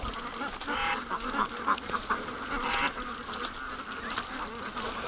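Muscovy ducks dabble in the mud outdoors, giving scattered soft quacks and calls against a steady background of rustling and ambient noise, with no clear talk over them.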